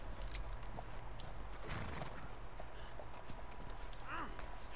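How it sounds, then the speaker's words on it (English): Horse hooves clip-clop steadily in Red Dead Redemption 2 gameplay, with a brief whinny near the end, over constant game ambience and some talk. "Deixa eu acalmar o cavalo aqui"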